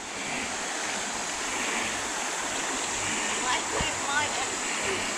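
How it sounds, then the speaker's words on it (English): River water rushing steadily past as people wade through a shallow crossing near WW2 Japanese bunkers, a continuous close wash with faint splashes. "There's Yuli trying to get through the river"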